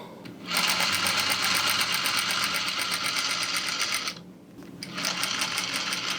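A sewing machine stitches a seam on a full-length Lola dress in a close, rapid, steady mechanical whir. It pauses briefly, then the stitching starts again.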